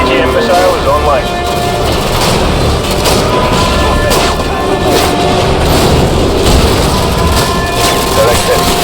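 AGM missile strikes in Call of Duty Modern Warfare (2022) land as dense, continuous booms and blasts, loud and close, with battlefield gunfire mixed in and a voice talking throughout.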